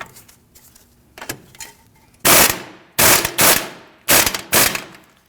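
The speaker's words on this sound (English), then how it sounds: "Go ahead and grab your impact gun and we'll go ahead and snug these down." An impact gun snugs down strut bolts on a 2010-2019 Ford Taurus during a front strut and spring replacement, firing several loud, close, rattling bursts. The bursts are separated by short pauses and preceded by softer clinks of tools and parts.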